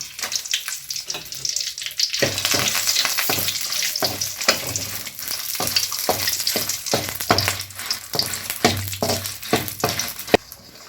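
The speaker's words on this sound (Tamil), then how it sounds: "இதுலேயே மிளகாய் போட்டு வறுத்துக்கலாங்க." Dry red chilies roast in a pan while making curry leaf powder, an even frying hiss broken by repeated rhythmic scrapes and stirs of a spatula.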